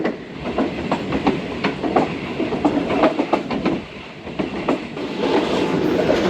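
A passenger express train rolls slowly at about 15 km/h past a locomotive yard between Multan and Lahore, its wheels beating a steady, close clickety-clack over rail joints with a continuous rumbling undertone and no talk.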